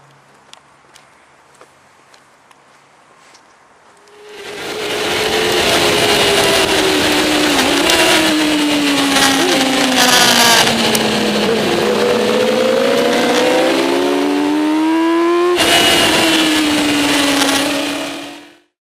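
A racing machine's engine heard onboard during a lap at Aberdare Park, starting quiet then roaring loud and close, pitch climbing and dropping through gear changes with a brief cut and a short shift before steady high revs.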